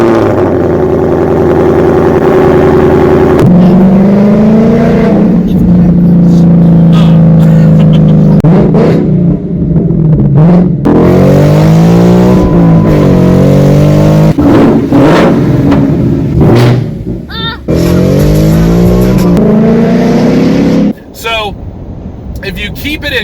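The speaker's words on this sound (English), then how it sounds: "I hear the new exhaust." A 2018 Mustang GT with a new exhaust idles and revs repeatedly, its deep rumble swelling and falling in loud, close bursts, while a person talks over it.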